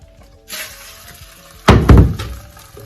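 A pancake is flipped and lands back in a frying pan with a sharp close thump and a brief double impact, preceded by a soft sizzle of batter cooking.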